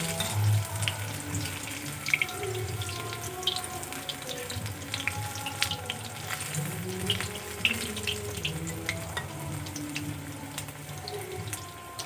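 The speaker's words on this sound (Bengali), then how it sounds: "বন্ধুরা, আমি এইভাবে পকোড়াগুলো ভেজে নিচ্ছি।" Cauliflower pakoras fry in hot oil with a steady, close, continuous sizzle and scattered small crackles throughout, with no talking.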